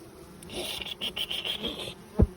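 Dense buzzing of many bees crowding hive frames close by, a steady droning hum with a brief thud near the end.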